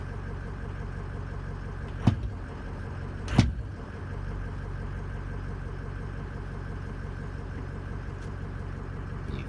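Truck engine idling at a steady, even rumble with a low, continuous drone and no revving, plus two brief sharp knocks partway through.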